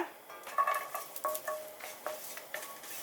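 Salted egg yolk being stir-fried and whipped in a pan, with a run of light clinking, scraping utensil strokes against the pan close by, no talking.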